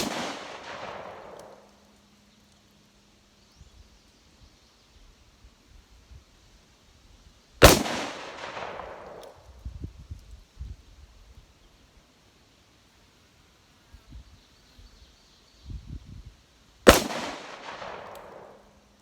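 A Taurus Judge revolver fires at a target: three sharp, loud shots spaced several seconds apart, each followed by a decaying echo, with quiet rustling and small handling noises in the gaps.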